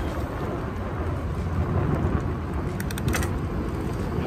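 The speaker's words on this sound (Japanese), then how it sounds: "なんで雨やねん。" Steady rain pours outdoors in Chiba during a delivery shift, a dense, even wash of drops that stays loud and constant throughout, with no voices.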